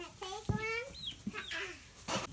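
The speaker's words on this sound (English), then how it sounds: "turkeys are coming out onto grass." Turkeys gobble and call in short, quick bursts as they come out onto grass at a market garden, close by, with soft rustling and low voices in the background.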